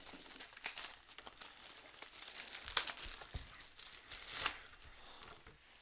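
Plastic wrap around a Bohemian Rhapsody vinyl and Blu-ray collector's set is sliced open along the front and crinkled, giving steady close rustling with a few sharper tearing bursts and no talking.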